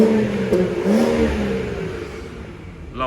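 A BMW M240i straight-six fitted with an M Performance exhaust revs up, giving a loud, close engine roar that rises and then eases into a steady drone, with no one speaking.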